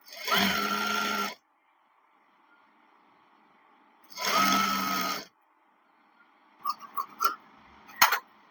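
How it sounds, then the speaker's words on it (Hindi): A sewing machine stitches the side seam of loose-fit pants in two short whirring runs separated by a silent pause, followed by a few small mechanical clicks and taps nearby. "½ इंच कपड़ा दबाते हुए सिलाई लगा लेंगे"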